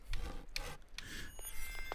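Wood sawn by hand with a saw: a steady run of rough, rasping strokes, close and fairly loud, with no talking.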